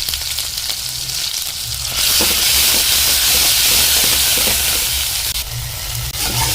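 Ginger garlic paste frying in a pan, a loud, close hiss that jumps into a fuller, steamy sizzle partway through and keeps going steadily, with faint stirring scrapes underneath and no voices.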